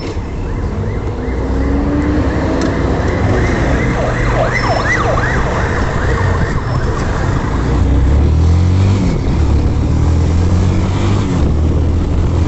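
A police vehicle's siren wails steadily alongside loud road and engine noise from a truck following it through city traffic, while a deep horn blares near the end.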